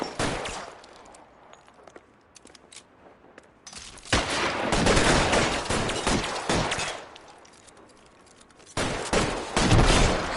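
Shotgun blasts fired in an L.A. Noire shootout, loud bursts of gunfire in two clustered volleys with a quieter stretch between, no talk.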